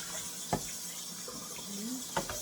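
Tap water runs and splashes while a humidifier is rinsed clean of bleach, a steady faint flow broken by a couple of sharp knocks and sloshes nearby.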